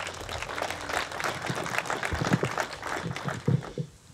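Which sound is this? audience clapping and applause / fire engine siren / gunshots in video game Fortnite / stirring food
audience clapping and applause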